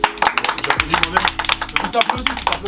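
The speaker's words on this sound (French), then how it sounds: "Applaudissements pour Mike" An audience at a live rap game show in Bordeaux claps for a performer, with quick sharp claps under a steady backing beat and loud voices over the top.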